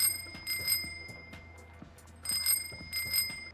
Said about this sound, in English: There is also new animations now for when you ring the bell on the bicycles.